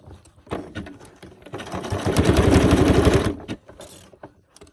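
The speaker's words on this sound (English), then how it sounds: "so you sew at your own speed" A sewing machine stitching coiled rope for an Easter basket, starting with a few short bursts, then running steadily in a loud, close, rapid mechanical rhythm for about a second and a half before stopping with some faint handling clicks after.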